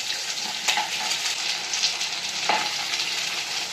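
Capsicum sizzling in hot oil while being stirred for a keema curry, a loud, continuous crackling fry close up, with a couple of brief scraping clunks from the spoon.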